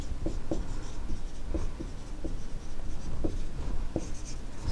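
A pen scratches across paper in quick strokes, steady close scribbling with brief taps as letters are formed, no talk.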